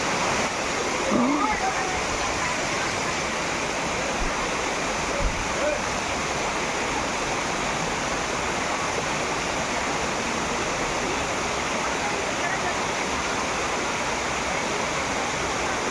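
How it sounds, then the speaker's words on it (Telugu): A constant, full-bodied roar of a waterfall pours on without a break, close and loud, with a brief murmur of people near the start sitting low under the rushing water. "Very beautiful water fall."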